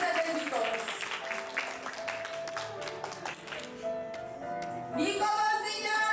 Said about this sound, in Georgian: უხარე ტაში ნიტა და დედიკოს.